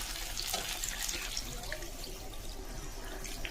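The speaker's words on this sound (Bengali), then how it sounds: "এবার আমি জলটাকে দিয়ে দেবো।" Water splashes steadily into a cooking pot while a Bengali egg curry is prepared in a home kitchen, a continuous soft pouring and trickling with faint drips.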